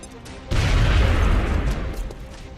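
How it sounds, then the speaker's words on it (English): Grenades go off in XCOM: Enemy Unknown as one loud, booming blast that swells at once and rumbles on, slowly fading with a low-end roar. "Grenades everywhere."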